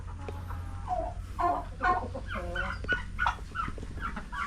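Chickens clucking around a brooding hen sitting on a few eggs on a backyard farm: repeated close clucks and short calls over a steady low background hum, with no talking.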